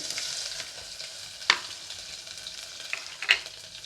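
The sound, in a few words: dried red chillies, mustard seeds and garlic frying in hot oil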